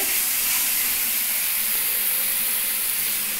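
A fish roe mixture with ketchup, tomato ketchup and a little sugar fries in oil, giving a loud, steady sizzle and hiss close by without pause.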